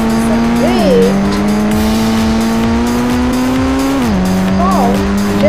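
A synthetic game-like Toyota Fortuner engine in a driving video game drones steadily, pitch dropping at two gear shifts, with brief tire squeals; loud and continuous.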